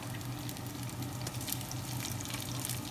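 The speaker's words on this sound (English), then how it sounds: "let me just brown it a little bit, and then I'm gonna put the rice in" Garlic rice sizzles steadily in a pan, a continuous soft frying crackle with no talking.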